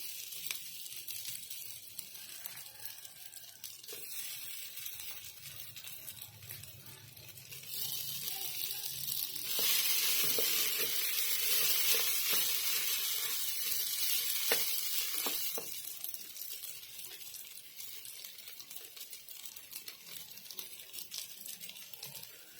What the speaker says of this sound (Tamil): இப்போ வாழைக்காய் மேஷ் பண்ணி போட்டுக்கணும்.